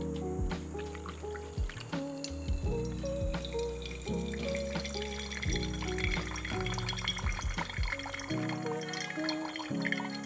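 Water drains through a Pegasus coffee dripper in a soft trickle with scattered drips and small clicks, under quiet background music.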